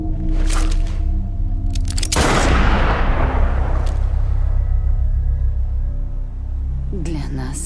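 Gunfire in the video game Death Stranding during the fight with Higgs: a loud blast erupts and rolls away in a long, fading rumble over a steady low drone, with short crackles before it.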